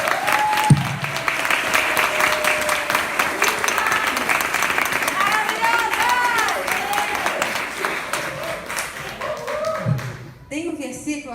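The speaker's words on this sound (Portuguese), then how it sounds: "Vamos aplaudir essas mulheres maravilhosas que estão aqui bem forte." A room of people applauds women honored at a church gathering, strong and sustained clapping that lasts the whole stretch. Voices and cheers rise within it, and the clapping thins out near the end.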